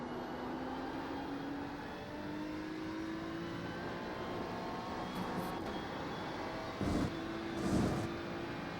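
A race car engine held at full speed in iRacing at Spa-Francorchamps, a steady sustained drone with a slowly rising pitch, fairly quiet, with a couple of brief louder bursts near the end.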